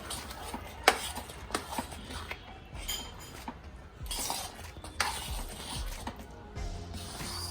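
Mushroom risotto with butter being stirred and scraped in a pan: repeated spoon scrapes and clicks against the pan bottom, a few sharper knocks, with faint sizzling underneath, close and steady throughout.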